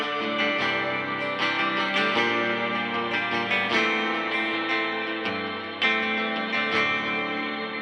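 A Fender Coronado electric guitar plays chords drenched in heavy reverb, the notes washing and blurring together, played steadily with a fresh strum near the end.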